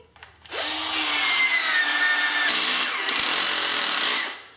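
A 12-volt cordless battery drill powered through a mains power converter whirs loudly and steadily for about four seconds after a brief start, its motor pitch holding even before spinning down, with no talk over it.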